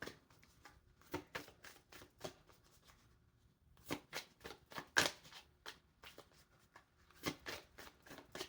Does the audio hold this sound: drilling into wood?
no